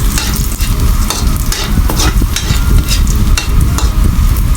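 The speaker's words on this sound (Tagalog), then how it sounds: "Ngayon po guys ay tayo po ay maggisa na ng bawang" Garlic sautéing in a pan for Bicol-style chicken curry with coconut milk: a loud, close, crackling sizzle with constant stirring scrapes and rapid sharp spatters throughout, no voices.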